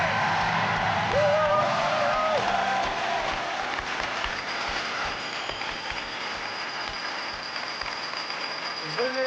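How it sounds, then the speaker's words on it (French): A TV game show studio audience claps in a dense, continuous burst of applause, loud at first and gradually thinning, with a few voices and music cues faintly mixed in. "Applaudissons tout le monde"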